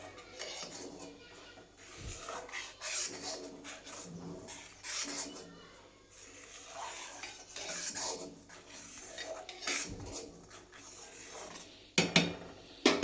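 A spoon clinks and scrapes against a pot while custard powder mixture is stirred for homemade kulfi, giving irregular metallic taps and scrapes up close, with sharp clanks near the end and someone talking throughout.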